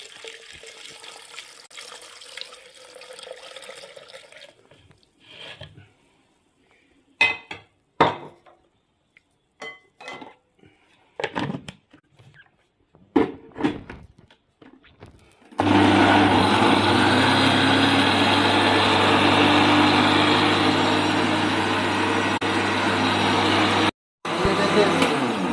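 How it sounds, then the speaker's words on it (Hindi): A blender grinds an apricot mixture with milk in a jug, whirring loudly and steadily for several seconds after a stretch of quieter clinks and handling. "थोड़ा थोड़ा करके डाल के मैं इसको ग्राइंड कर लूँगा"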